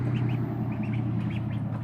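Young ducks splashing in a water-filled bathtub give a run of small, soft quacks and peeps over a constant low hum, fairly close with no voices.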